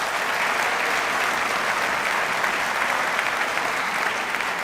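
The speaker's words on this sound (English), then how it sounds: "I'd like a round of applause too for them" A banquet hall audience at a high school football banquet claps steadily and warmly, dense sustained applause from a sizable crowd throughout, without distinct voices.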